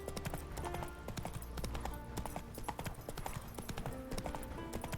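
A horse's hooves clip-clop at a steady walking rhythm in The Witcher 3: Wild Hunt, crisp and close over faint background music, with no talk.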